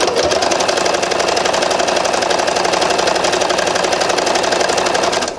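Sewing machine top stitching a sweater seam, a fast steady mechanical whir with a rapid needle chatter, loud and continuous until it slows at the end.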